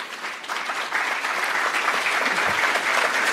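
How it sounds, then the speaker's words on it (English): A conference audience at an Open Government Partnership regional meeting applauds a state minister of finance with dense, steady clapping that swells after the first second and stays full to the end. "give him a round of applause"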